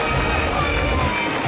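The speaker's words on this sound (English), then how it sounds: "Applause as Smith crosses." Crowd at a 2022 college baseball regional game between UConn and Wake Forest, cheering and applauding steadily as a runner crosses home plate, a dense even roar throughout.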